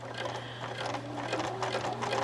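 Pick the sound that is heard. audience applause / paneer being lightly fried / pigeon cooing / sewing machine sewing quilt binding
sewing machine sewing quilt binding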